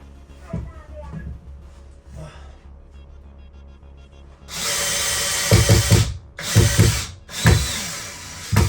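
A worn drill bit drives screws into a wall while a dashboard is mounted, quiet handling noises first, then loud whirring bursts in several pulses with brief stops between them.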